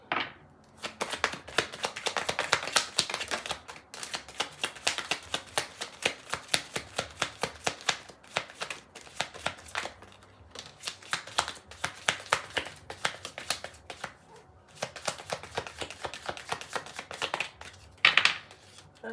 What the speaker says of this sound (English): So I'm gonna get one more shuffle.